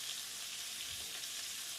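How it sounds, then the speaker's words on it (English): Onions fry in a pan alongside burger mince, giving a steady, close sizzle that holds at an even level throughout with no pauses. "I've already thrown the onions in, so I'm frying those off as well."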